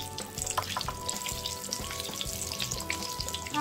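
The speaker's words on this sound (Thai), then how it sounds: "เอียงกระทะนิดนึงนะคะแล้วก็ใช้ช้อนค่อยๆตักราดน้ำมันลงไปแบบนี้ค่ะ" Oil sizzles and crackles steadily as salmon fries in a pan, with occasional soft scraping and clinks as oil is spooned over it, close and fairly quiet.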